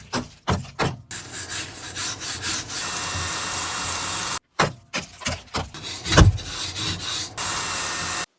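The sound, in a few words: scraping rust off metal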